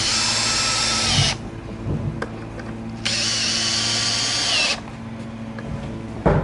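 Power drill driving screws into a wooden window frame for a 70mm cabin kit, two long steady whirring bursts broken by quiet gaps with small handling knocks, close and loud.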